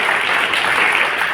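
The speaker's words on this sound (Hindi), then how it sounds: "मैं चाहूँगा मेरे स्कूल के जो स्टाफ साथी हैं उनके लिए भी एक बार जोरदार ताली बजाएं आप" Audience applause at a government senior secondary school function, a steady dense wash of clapping from a crowd, loud and continuous with no gaps.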